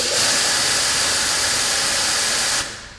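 An Adam's Pro Series electric pressure washer sprays steadily from its nozzle at about 1100 PSI, a loud, constant hiss that cuts off abruptly near the end.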